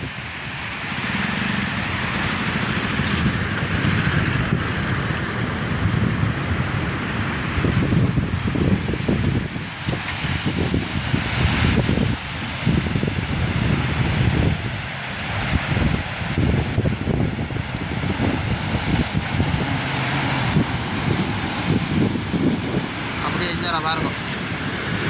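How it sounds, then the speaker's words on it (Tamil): After heavy rain, water overflows the spillway of Muthaiyankattu tank in a constant broad rushing roar that runs unbroken throughout, with wind buffeting the microphone and someone talking over it. "கலிங்கி கண்ணாலயம் வந்து தண்ணி நிறைய பாஞ்சு கொண்டு இருக்கு."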